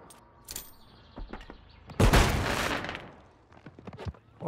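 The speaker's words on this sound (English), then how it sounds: "Oh, it's a flashbang." A single loud flashbang grenade in Call of Duty Modern Warfare 3 bursts close by with a broad crack and a rushing tail lasting about a second, surrounded by scattered faint game clicks and distant shots.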